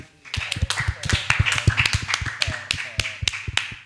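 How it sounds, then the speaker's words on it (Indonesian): A small school audience at a junior high student council gathering in Jakarta claps hands, sharp distinct claps from a few people close by in an uneven, loose rhythm that runs steadily throughout. "Oke, tepuk tangan."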